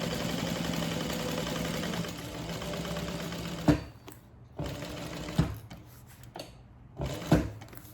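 A sewing machine bastes a handbag, stitching in a steady mid-pitched whirr for several seconds, then stopping and restarting in short bursts with clicks between, close and fairly quiet.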